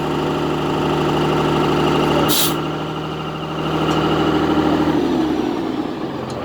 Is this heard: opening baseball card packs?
no